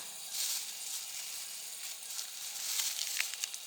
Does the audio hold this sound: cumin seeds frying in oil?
yes